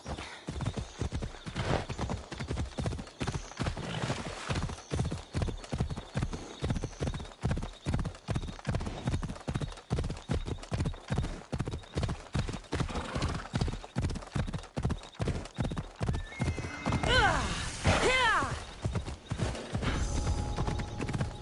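Phobos the horse gallops hard through an Assassin's Creed level, a steady rapid clip-clop of hooves running the whole way, with a whinny and swelling game music near the end.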